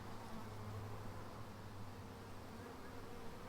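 A honey bee swarm is scooped by hand from a high tree. It gives a dense, steady buzzing drone that holds evenly through the whole stretch, close and loud, with no voices.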